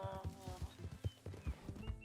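Zebra in Red Dead Redemption 2 trotting along, with a steady clip-clop of hooves in a repeating rhythm, fairly close and moderately loud, alone with no talk.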